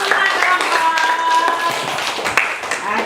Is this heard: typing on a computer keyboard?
no